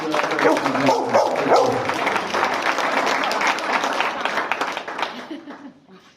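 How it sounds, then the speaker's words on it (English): Crowd applause at a graduation ceremony, a dense wash of clapping that runs for about five seconds before tapering off, with some voices and what may be a dog barking mixed into the noise. "another big round of applause for these two"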